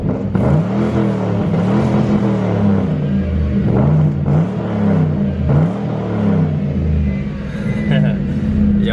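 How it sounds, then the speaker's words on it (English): A 2004 Ford Crown Victoria engine with cat delete and single-chamber Flowmaster mufflers revs hard over a steady rumbling idle, pitch rising and falling in several pulses, heard close up from inside the car with a voice over it. "About to rev it inside the car as well."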